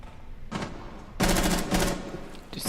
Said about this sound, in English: Just hear gunshots going around